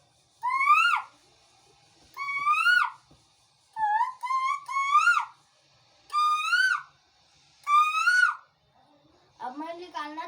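A man whistles a rising koel-like bird call by mouth, repeated in about six clear, loud phrases with short pauses, ending in a lower warbling imitation.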